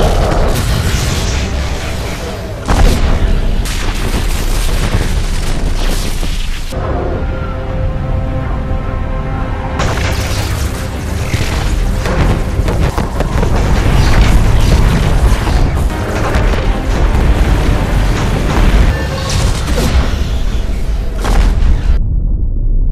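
Weapon fire destroying a planet in the Ender's Game film, loud booming explosions and rumbling blasts with a sustained roar that drops out briefly in the middle before surging again.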